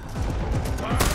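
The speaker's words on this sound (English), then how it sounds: "Guns blazing." Rapid automatic gunfire in the video game Far Cry 4, loud and continuous bursts crackling throughout a short firefight moment, with a sharper shot near the end.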